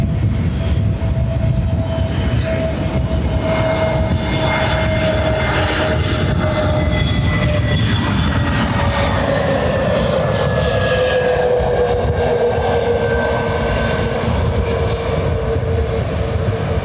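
An Airbus A321 airliner arriving from Manchester at Lanzarote Airport passes as a loud continuous jet engine roar with a slowly falling whine, steady from start to finish with no voices.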